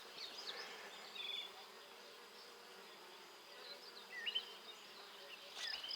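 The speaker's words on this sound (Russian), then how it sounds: "Пчелки гудят на кустах." Bees buzzing on bushes on a summer day, a faint, steady hum under soft outdoor ambience, with occasional thin bird chirps.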